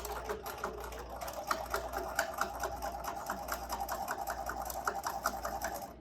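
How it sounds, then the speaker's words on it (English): Sewing machine back stitching at the bottom of a pleated fabric mask, a steady run of rapid, close, evenly spaced needle strokes over a low motor hum with no talking. "And I'm back stitching at the bottom"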